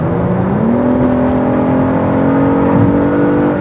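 A Genesis G80 Sport in sport mode fills the cabin with its synthetic active engine sound: a loud, smooth tonal drone that rises in pitch early, then holds steady and close.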